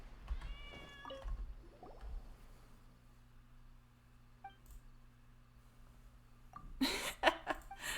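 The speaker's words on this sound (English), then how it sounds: "I heard that little cat sound." A small cat in the video game Genshin Impact meows a few times, soft and nearby, over a low steady hum, followed by a burst of louder rustling noise.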